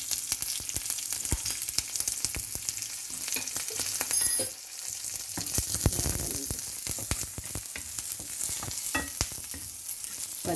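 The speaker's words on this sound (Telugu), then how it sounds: "ఇక ఒక్క స్పూన్ వేస్తున్నాను అంతే, మిరపకాయలు వేయించుకోవడానికి." Chilies frying in a spoonful of oil in a hot pan, a continuous close sizzle with crackles and occasional stirring scrapes throughout, no voices.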